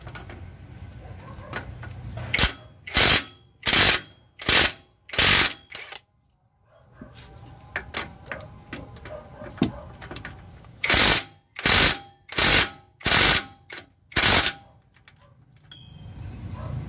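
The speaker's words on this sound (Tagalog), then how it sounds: "gamitan natin ng power tools na impact wrench" A power impact wrench with a 19mm socket loosens two bolts on an Isuzu Hi-Lander suspension in a workshop, firing in two loud series of rhythmic hammering bursts with quieter metallic handling noise between them.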